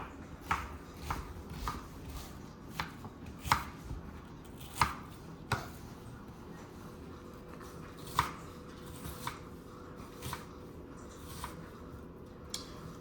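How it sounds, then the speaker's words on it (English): Onion chopped with a knife on a cutting board, a slow, irregular series of soft thuds and taps, about a dozen strikes spaced a second or so apart, heard close against a quiet room hum with no talk. "we're gonna cut out half a cup of onion. We're gonna chop it"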